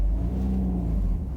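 A car engine hums and rises in a low, steady drone while the car goes around a tight turn, a pitched tone sitting under broadband road rumble, with no voices.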